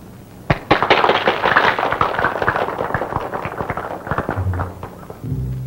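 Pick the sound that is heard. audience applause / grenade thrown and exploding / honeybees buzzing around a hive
grenade thrown and exploding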